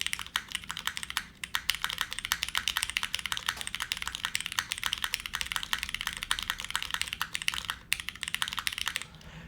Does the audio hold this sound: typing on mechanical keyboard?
yes